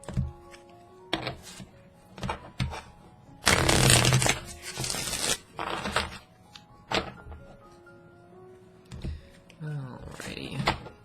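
Repeated riffling and snapping of a tarot card deck being shuffled up close, in several bursts with soft thumps between, a voice talking at times.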